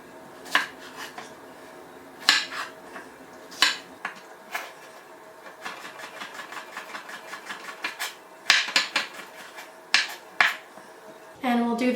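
Zucchini and celery being chopped on a board at home: irregular sharp knife taps in short bursts, some clustered and rapid, close and fairly loud with no talking.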